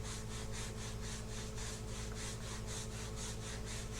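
A rag rubs wax onto a surface before a chalk paste transfer goes down, giving a steady, rhythmic back-and-forth scrubbing with no talk.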